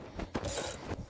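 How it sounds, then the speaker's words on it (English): Brief mechanical ratcheting and clunking as a spare tire is secured back in place in a 2023 Acura RDX, a few close metallic clicks over about a second. "we'll get our spare tire put back in place"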